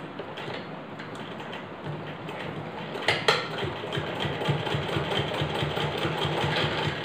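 A sewing machine stitches a doubled seam along a salwar hem, giving a close, steady rhythmic whir with a few sharper clicks midway, gradually growing slightly louder.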